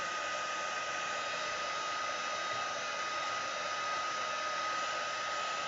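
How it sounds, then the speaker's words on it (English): A heat tool for embossing powder blows hot air in a steady, unbroken whoosh, close and constant with no other sounds. "I'm just using my heat tool."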